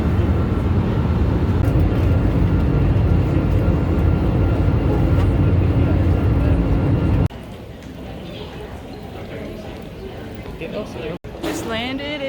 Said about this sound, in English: Just landed at Minneapolis St. Paul International Airport.